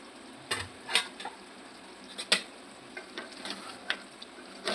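Chicken pieces fry in hot oil in a pan for bagara rice, a steady sizzle broken by sharp crackling bursts and a few stirring scrapes, close and fairly loud with no talk.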